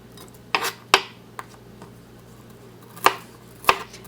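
A red onion is chopped on a cutting board with a knife, giving a few sharp, close knocks spaced unevenly apart, and no one talks over them.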